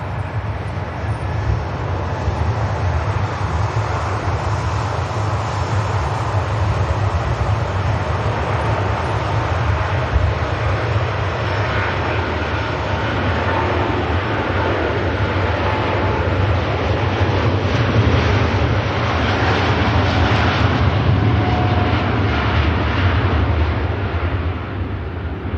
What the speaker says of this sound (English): Next thing, there's the Turkish Airlines from Istanbul.